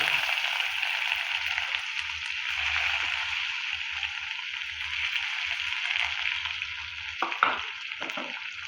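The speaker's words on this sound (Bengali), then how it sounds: "পেঁয়াজটা একটু ভেজে নেব" Chopped onions and dried red chillies frying in hot oil with black cumin seeds in a pan, a steady loud hiss close by throughout, with a few scraping stirs near the end.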